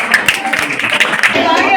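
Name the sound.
applause at a school science exhibition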